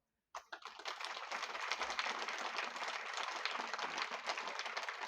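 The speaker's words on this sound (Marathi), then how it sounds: "काय टाळी जोरात वाजवायची" Loud, sustained applause from an audience at a Marathi Bhagwat katha religious discourse, bursting in after a brief silence and continuing as dense, steady clapping without talk.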